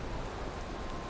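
Rain falling in the video game Valheim, a steady, even wash of rainfall on surfaces, soft and constant throughout with no voices.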